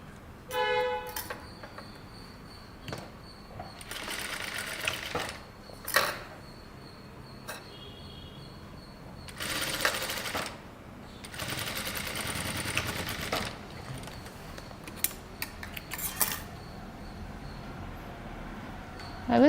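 Sewing machine stitching the shoulder seam of a boat neck kurta, running in several bursts of a few seconds each with quiet pauses between, fairly close.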